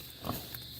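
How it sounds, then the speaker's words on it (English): A pig on a family farm, one of the offspring of the original boar, gives a single short grunt up close in a pen where pigs dig into a mulch pile. It is brief, over a low steady background, with no talking. "this is one of our original pig Colonel's boys"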